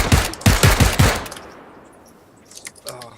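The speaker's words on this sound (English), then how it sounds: "He's shooting at me." Rapid automatic gunfire in the PUBG battle royale game, a loud close burst of repeated shots for about a second, then quieter game ambience and distant scattered sounds.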